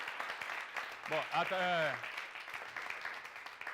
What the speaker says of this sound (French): On va s'applaudir très très fort.